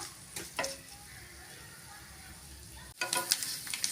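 Grated coconut mixture dry-roasting in a pan for chicken gravy, a soft low sizzle with light stirring scrapes, growing louder and busier near the end.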